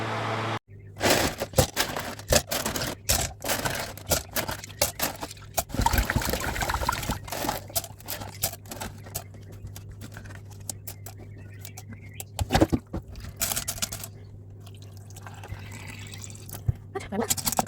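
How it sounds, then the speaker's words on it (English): A rock tumbler barrel being rinsed and scrubbed out with water, with splashing, sloshing and trickling, irregular knocks and handling bumps, and brief quieter gaps, heard close up and loud. "meanwhile I'm giving the tumbler a really good clean"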